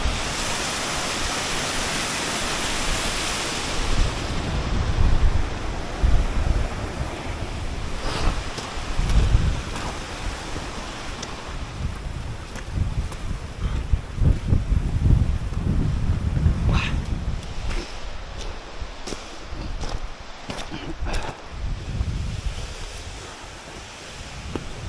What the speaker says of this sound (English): people would just say it's water coming down the side of a mountain